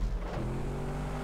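Race car engine in GTA Online droning low and steady in a short, loud burst, alone without speech.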